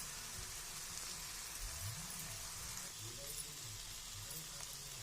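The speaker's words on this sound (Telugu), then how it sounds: "కొంచెం గరం మసాలా పౌడర్ వేసి వేయించుకోవాలి" Garam masala, coriander powder and garlic paste frying in a pan, giving a soft, steady sizzle and crackle at low level with a faint voice now and then.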